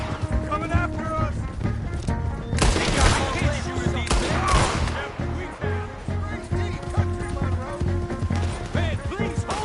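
Rapid bursts of gunfire crackle through a console video game battle, loud volleys clustering midway with galloping hooves and shouting voices mixed in throughout.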